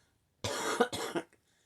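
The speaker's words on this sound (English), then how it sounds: "I'm not sure why I'm coughing today" Two quick, harsh coughs from one person, close up, with a brief throaty catch at the end, in otherwise quiet surroundings.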